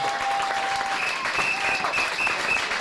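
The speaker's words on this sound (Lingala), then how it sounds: "Acclamons pour le roi de gloire" A church congregation claps during a worship service, a dense, continuous wash of applause from many hands filling the room.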